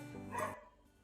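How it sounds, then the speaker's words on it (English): A dog barks once, close and fairly loud, a short harmonic yelp that cuts off abruptly, followed by quiet room tone. "This dog is killing me."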